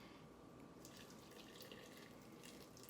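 Hot water trickles and pours into a whoopie pie batter in a mixing bowl, a faint, steady liquid stream with a soft splashy hiss.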